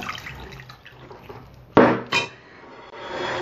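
Pumpkin cooking liquid poured into a small bowl in a kitchen, with soft splashing and two sharp clinks of a dish close by, then a gentle running-water trickle.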